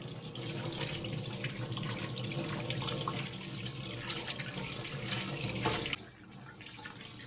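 Tap water runs steadily over a cleaned cottontail rabbit in a sink, a close, continuous hiss and splatter that drops abruptly to a quieter trickle near the end, with no voices.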